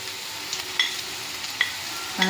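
Turmeric stirred into a vegetable curry frying in a pan, heard as a soft steady sizzle with a few light scrapes and clicks from the spoon. It sounds close but quiet, with no talking.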